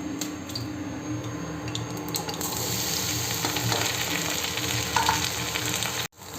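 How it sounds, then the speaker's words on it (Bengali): Mushrooms fry lightly in a pan without batter, a close steady sizzle with crackling and stirring, running continuously before cutting off abruptly near the end. "মাশরুমটা ভাজা হয়ে গেছে,"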